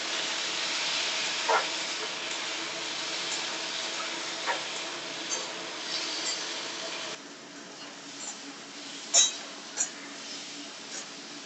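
Two medium tomatoes land in a hot pan and sizzle with a steady, close hiss that softens after about seven seconds, punctuated by a few small clicks.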